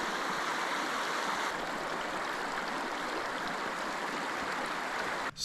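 Steady broadband rush of a flowing river in Utah, constant and fairly close, with no voices over it.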